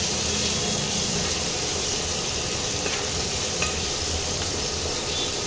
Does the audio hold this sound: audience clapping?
no